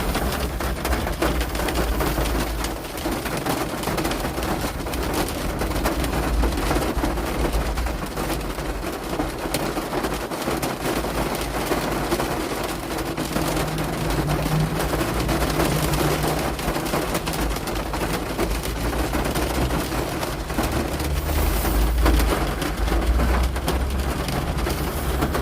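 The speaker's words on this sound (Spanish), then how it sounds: "bajo la lluvia" Rain falling on a car, heard from inside the cabin: a steady, dense hiss and patter across the whole stretch with a low rumble beneath, fairly loud and even, with no voices.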